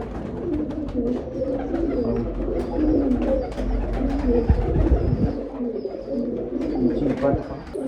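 Bankay pigeons cooing nearby in repeated low, rolling coos, with faint chirps and speech in the background.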